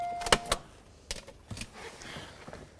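A power window motor and regulator assembly on a 2007-2013 Acura MDX lowers the glass: a few sharp mechanical clicks, then a faint, uneven whirring drag, heard up close with no talking.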